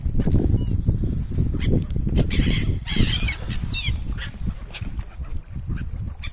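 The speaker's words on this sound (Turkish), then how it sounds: "Martı besliyoruz." Seagulls being fed along a seaside town shore give repeated loud squawking calls among a busy mix of wind, movement and ambient noise, with some cries standing out sharply.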